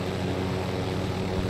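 A helicopter in Call of Duty Warzone gives a steady, loud rotor and engine drone that holds at a constant level throughout, with no talk.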